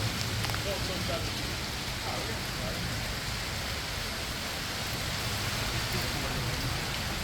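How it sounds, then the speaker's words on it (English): Heavy rain pours steadily at a solar panel installation site, a dense, unbroken hiss of downpour without pause from start to finish. "It's pouring, man."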